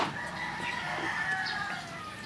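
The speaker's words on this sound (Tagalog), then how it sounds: "pag pinapakain ko po yung mga manok natin" Backyard chickens cluck and murmur while being fed, a continuous close flock chatter with overlapping calls and no talking.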